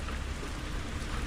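Steady, even rain pours down close by in a constant dense hiss, a heavy downpour with no break and no voices.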